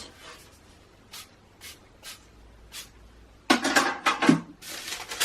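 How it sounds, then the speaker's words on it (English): Quiet rustling and a few soft taps, then a loud hissing burst of aerosol cooking spray onto a baking tray lasting over a second, close by. "Spray down our baking tray or cookie sheet."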